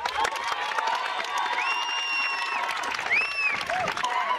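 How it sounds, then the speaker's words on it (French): A crowd at a French left-wing political rally in Vaucluse claps and cheers, with whoops and high shouted calls rising over steady applause. Loud, lively, and continuous across the whole stretch. "Vous pouvez l'applaudir rien que pour ça."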